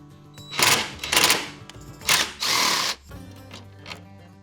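A ratchet with a 10mm socket backs out a bolt on the air box of a Jeep Wrangler JL, giving several close, quick bursts of clicking separated by short pauses.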